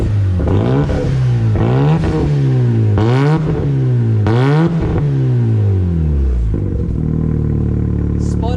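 A Mazda RX-7 FD's newly installed turbo rotary engine revs up and down repeatedly in rising and falling sweeps, close by, then settles into a rough idle.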